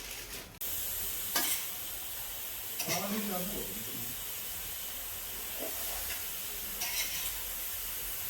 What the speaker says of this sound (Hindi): तो अब एक चूल्हे पर दूध रख दूंगी और इधर मैं हलवा चलाती रहूंगी।